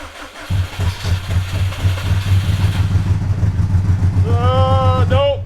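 A Subaru STI engine cranks with a rapid, rhythmic churning over a low hum, never catching, followed by a brief high electronic whine.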